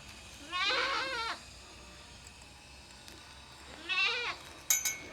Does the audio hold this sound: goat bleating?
yes